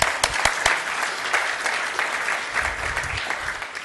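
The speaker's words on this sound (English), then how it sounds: "That deserves a round of applause." Audience applause at an economic summit keynote by California's lieutenant governor, a steady dense wash of clapping from a large crowd that holds for the whole stretch without talk.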